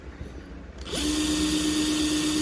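A cordless drill with a newly replaced battery whirs up to speed and holds a steady, high-pitched motor whine close by, following a moment of quieter handling.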